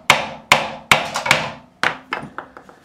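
Crisp tapping of a nylon fretting hammer on the frets of a Squier bass guitar, about nine sharp strikes at an uneven pace, close and clear, fading toward the end.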